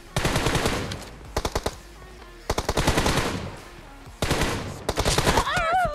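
Bursts of automatic gunfire in the mobile battle royale game PUBG Mobile, three long volleys of rapid shots separated by short pauses, some ringing close and loud, with a brief warbling tone near the end.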